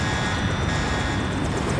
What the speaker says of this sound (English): Take the helicopter back to base.